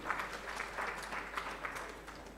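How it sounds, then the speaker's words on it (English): Applause at a university research chair launch event, a soft, distant and steady patter of clapping from the audience, faint throughout. "Please give him a round of applause"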